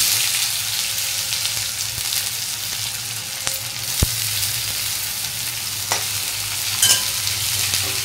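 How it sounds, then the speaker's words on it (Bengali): Chopped onions fry in a pan with bay leaf, dried chilli and cumin seeds in a steady, bright sizzle, punctuated by a few clicks and scrapes of stirring. "পেঁয়াজগুলো একটু ভাজা ভাজা করে নেবো"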